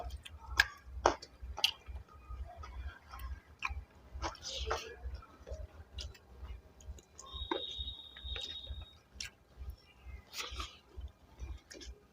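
Close, wet chewing and biting of a spicy fish and rice meal, with rhythmic mouth clicks and smacks at a low level and occasional soft speech.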